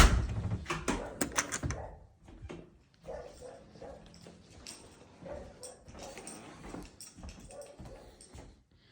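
Dogs in a backyard bark repeatedly in uneven bursts, loudest at the start and then continuing in scattered yips and woofs, mixed with occasional knocking and clattering nearby.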